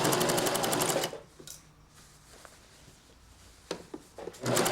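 Sewing machine stitching a pleated dress skirt, one loud, steady burst of needle clatter that stops, then quiet handling rustles and small knocks before the machine starts up again.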